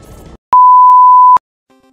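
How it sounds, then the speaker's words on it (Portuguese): An alarm clock gives one loud, steady electronic beep lasting almost a second, with a brief faint blip after it and near silence around it. "O despertador tava me lembrando que eu tenho que trabalhar daqui a pouco"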